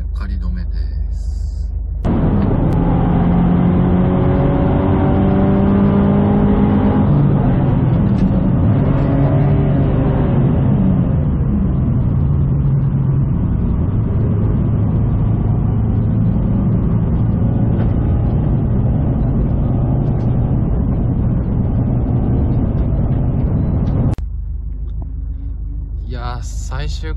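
A car's engine on the Tsukuba Circuit, over-revved after a missed shift into second at the final corner, roars loudly for about twenty seconds. Its pitch rises and falls in sweeps early on, then it settles into a sustained drone, with a voice heard faintly at times.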